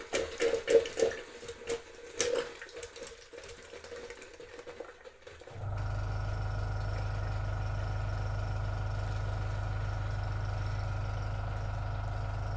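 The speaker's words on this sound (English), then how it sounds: "The cleaning vessel is now pressurised with water only, and we will pull the solution through." Irregular sloshing and splashing of water for several seconds as water is flushed through a Lindr beer cooler, then a steady, loud mechanical hum with rushing flow that continues to the end.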